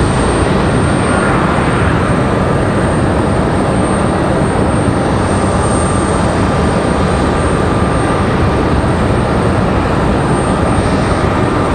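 Jet engines of CRJ 200 regional airliners at Raleigh-Durham International Airport, a steady broadband roar that holds loud and even throughout with no talk.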